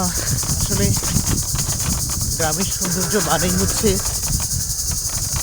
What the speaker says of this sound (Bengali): ঝিঝি পোকার ডাক, যেটা আপনারা শুনতে পাচ্ছেন